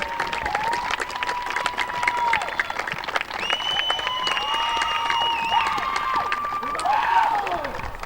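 A crowd at a women's college soccer senior-night game cheers and applauds, a broad steady roar with whistle-like tones and shouts rising over it, distant and continuous.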